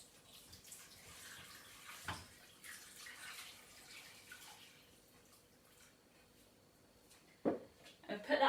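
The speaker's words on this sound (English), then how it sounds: "Fill that up with water." Water runs from a tap into a large saucepan in a home kitchen, a steady broadband gush with splashing that swells and fades over several seconds, quiet and fairly close, with brief louder clatters near the end.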